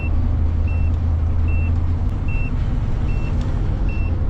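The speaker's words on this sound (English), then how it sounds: "My tire pressure monitoring system is setting off an alarm." An RV's tire pressure monitoring system alarm sounds while driving on the interstate, giving short, regular electronic beeps about every 0.8 seconds over a loud, steady engine and road drone.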